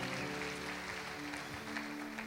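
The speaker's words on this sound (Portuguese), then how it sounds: "Será que você pode aplaudir o Senhor?" A church congregation applauding during a year-end worship service, steady broadband clapping filling the room with a sustained hum underneath, no voices standing out.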